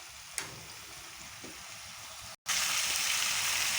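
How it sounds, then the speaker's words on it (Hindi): Ground coriander powder and spices frying in oil in a pan for an aloo shimla mirch dish, a steady close sizzle that briefly cuts out and then returns louder and brighter. "अब हम इसको मिक्स करेंगे और अपने स्पाइसेस को अच्छे से फ्राई कर लेंगे।"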